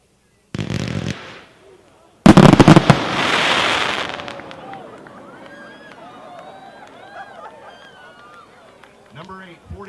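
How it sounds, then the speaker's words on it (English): A 25-shot silver mine cake with silver tails and titanium salutes, Sunwing Pro, at a fireworks product demo: a sharp launch burst, then a loud crackling barrage of reports that fades into fizzing, with voices and crowd noise underneath. "Number seven, 25-shot silver mine, silver tail, titanium salute,"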